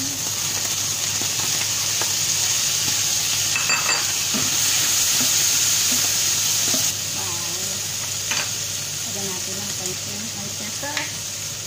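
Beef with onion and mushrooms stir-frying in a pan, a steady close sizzle with a scraping, stirring rhythm all through, brief clinks of the utensil and a few quiet bits of speech near the end.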